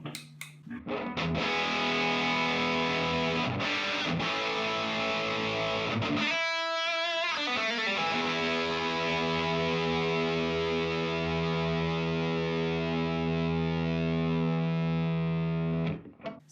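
Electric guitar played through a JHS Andy Timmons overdrive pedal on its 25 watt setting, sustained distorted chords ringing with a brief pause midway, loud and alone.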